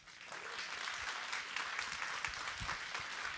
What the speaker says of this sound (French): On l'applaudit s'il vous plaît.